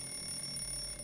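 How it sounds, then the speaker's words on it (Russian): An electronic alarm clock in the video game Fallout 76 rings steadily as a high, sustained beeping, fairly quiet and continuous, with no voices. "Так, будильник. Все, пора вставать."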